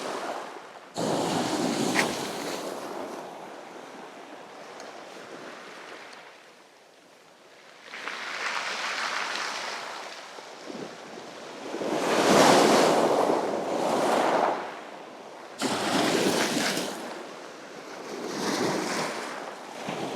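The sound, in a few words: sea waves crashing on the beach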